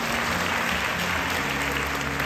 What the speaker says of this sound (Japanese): マディーピンクの皆さんにもう一度大きな拍手